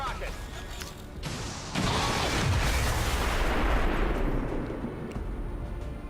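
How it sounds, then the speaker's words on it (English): A rocket is fired in the video game XCOM 2, producing a loud, sudden blast followed by a long roaring explosion that sustains for several seconds before tapering off. "Firing rocket."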